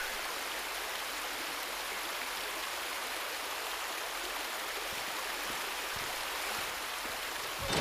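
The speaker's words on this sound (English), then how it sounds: "It's water." Steady rushing water streams and splashes continuously in a Resident Evil 2 Remake level, a dense broadband wash with no talk over it.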